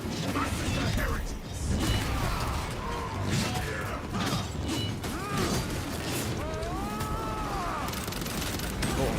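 Bridge mechanism activating in a Warhammer 40,000: Darktide-style game, a busy stretch of mechanical clanks, creaks and ratcheting with scattered gunfire and whining tones, all at a steady moderate level.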